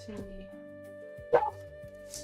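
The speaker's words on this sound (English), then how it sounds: "Sorry for the dogs being loud." Dogs bark indoors during a live design session, with short yipping and woofing bursts, the loudest one coming midway, alongside a brief spoken word.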